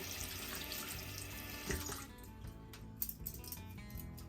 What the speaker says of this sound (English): I'll rinse my hands and I'll rinse them off in clean water.